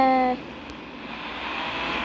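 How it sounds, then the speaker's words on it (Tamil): A metro train passes on a new elevated railway track, a brief horn-like tone at the start giving way to a steady, rising rumble of passing cars, fairly loud and continuous with no talk. "மெட்ரோ ட்ரெயின் போகிறது"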